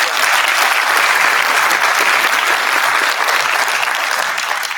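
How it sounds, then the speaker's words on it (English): An audience at a senior scholarship ceremony claps in steady, full applause throughout, close and uninterrupted. "So how about a round of applause for them?"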